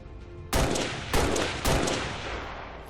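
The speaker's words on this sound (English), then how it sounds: "we can take a risk-free shot here" Gunfire in the turn-based strategy game XCOM 2, three loud booming shots spaced about half a second apart, each with a long reverberant tail, no talking over them.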